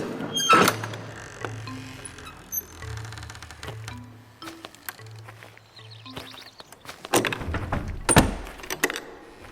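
A door opening in a horror game, a couple of heavy thunks and creaks among scattered footsteps and clatter, fairly close and moderately loud.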